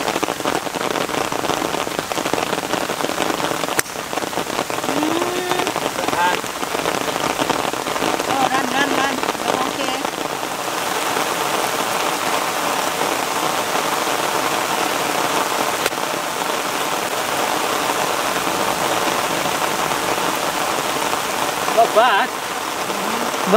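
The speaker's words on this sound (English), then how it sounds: "Right, the rain's stopping." Steady, heavy rain hisses and patters on surfaces throughout a golf course at Phuket Country Club, with occasional voices faintly heard beneath the constant downpour.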